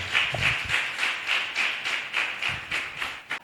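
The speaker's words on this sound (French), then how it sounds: "Applaudis pour l'Éternel" A church congregation clapping in unison during worship, with a steady, regular rhythm of sharp claps repeating about three times a second, close and clear with no talk over it.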